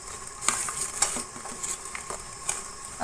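A spoon stirs a salt and spice mixture for lemon pickle in a small bowl, giving faint, intermittent scraping clinks and soft taps at close range.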